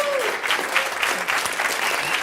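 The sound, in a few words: audience applause for conference organizers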